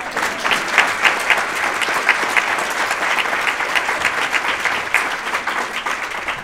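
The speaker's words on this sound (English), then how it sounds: "Can we give Dr. Zitter another round of applause?" A symposium audience gives a keynote speaker a sustained round of applause, dense, even clapping from a large crowd that continues steadily without talk.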